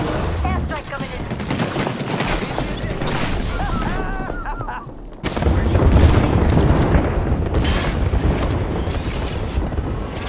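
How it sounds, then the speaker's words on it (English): Airstrike explosions and gunfire in the battle royale shooter Apex Legends, a heavy, continuous barrage of booms and shots that drops briefly midway, then surges back louder, with voices talking over it. "Airstrike coming in."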